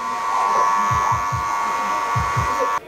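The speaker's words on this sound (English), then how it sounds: "Clippers up. And work up and off." Electric hair clippers buzz steadily while cutting a short crop with a fade. A constant close motor hum carries several quick rhythmic passes through the hair and cuts off abruptly at the end.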